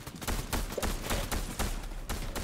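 Rapid bursts of SMG fire in a video game crackle in a dense, continuous stream of sharp shots, loud and close, with no talk over them.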